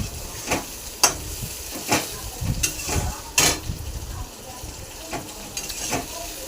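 Onions fry in a pan until reddish as the base for a pabda fish curry. A constant close sizzle runs under repeated sharp scraping stir strokes, with a faint bit of talk in the background.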